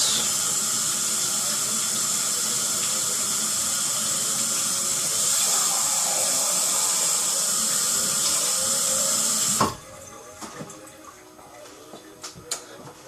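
Tap water pours steadily into a glass measuring cup as a continuous, even hiss and splash. It stops abruptly near the end, leaving a few faint clinks and drips.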